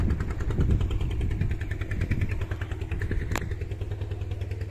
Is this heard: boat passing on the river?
yes